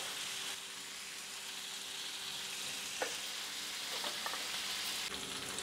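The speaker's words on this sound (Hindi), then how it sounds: "हम मटन की बोटी को अच्छे से फ्राई कर लेते हैं उलटते पलटते" Mutton pieces for biryani fry in a pan or kadhai with a soft, continuous hiss and sizzle, broken by a few light clicks of turning the meat, heard faintly and alone.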